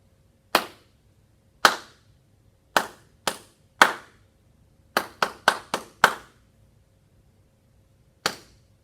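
Hands clap out a two-bar rhythm for dictation: ten sharp, clean claps alone in a quiet room, spaced unevenly with a quick run of short claps near the end.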